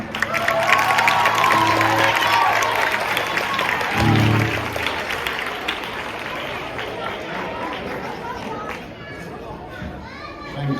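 Audience applause at a charity concert for a group of young singers, a dense clapping wash that stays loud throughout, mixed with crowd chatter and voices talking over it.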